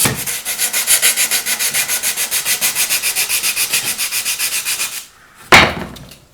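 Steady back-and-forth sanding of plywood puzzle-shaped bed parts with 180-grit sandpaper, about twenty even strokes in a loud close rhythm, then a pause and a single sharp knock at the end.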